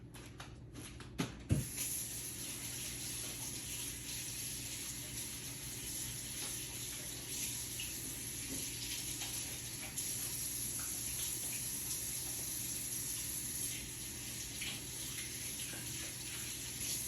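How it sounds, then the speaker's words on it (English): Steady tap water runs at a sink for hand washing in a home kitchen where flour tortillas are being made, a continuous even hiss after a couple of brief knocks at the start. "I gotta wash my hands."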